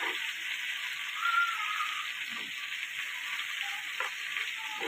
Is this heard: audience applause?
no